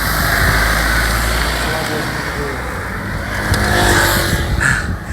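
A car passes close by on a road, a loud rushing engine and tire roar that swells and fades while people talk over it.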